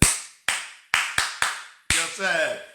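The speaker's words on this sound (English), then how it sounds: "if you know you are married and you have never cheated on your husband, clap for yourself." Six sharp hand claps from an audience land at uneven intervals in a reverberant room, then a voice begins speaking.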